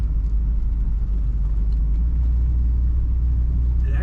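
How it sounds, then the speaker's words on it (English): A 1958 Pontiac Bonneville two-door hardtop on the move gives off a steady, deep engine rumble with continuous road noise, even and unbroken, and no talking over it. "Just a slight rumble to this car when you get on the throttle."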